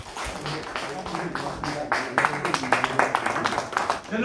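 An audience at an elders' literary association anniversary seminar in a church claps in a burst of sharp, irregular hand-claps. The applause swells louder toward the end.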